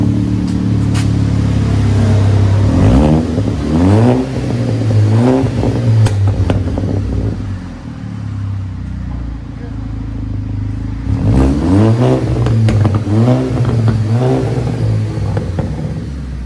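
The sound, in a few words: 2011 Audi A5 2.0 Quattro straight-pipe exhaust revving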